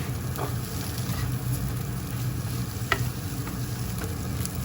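Vegetables, egg and instant noodles stir-fried in a hot pan give a steady, close sizzle with occasional clinks and scrapes, uninterrupted by talk.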